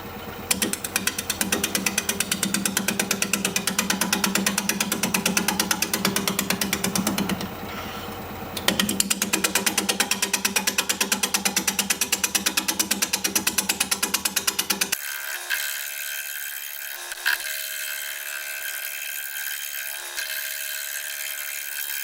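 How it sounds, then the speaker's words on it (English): A wood lathe spins a buckeye bowl blank at 530 RPM while a 5/8 inch bowl gouge cuts it, making a loud, rapid chattering rattle that runs for a long stretch, halts briefly, then gives way to a thinner, quieter whir. "We're going to be turning at 530 RPM, 5/8 inch bowl gouge"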